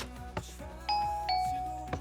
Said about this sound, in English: But that was the doorbell that Cub installed